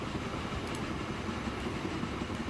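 A train runs along track in the railway game Transport Fever 2, a low steady rumble of rolling wheels with faint clicks, fairly quiet and continuous, no voices.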